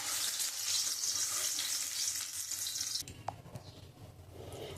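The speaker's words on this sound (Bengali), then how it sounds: "এবার তেলটা গরম হয়ে গেছে, আমি এক এক করে ছেড়ে দেবো, একটু ভেজে নেব।" Eggs fry in hot oil for an egg curry with mustard, a bright crackling sizzle for about three seconds, then fading to quieter sputters and a faint clatter.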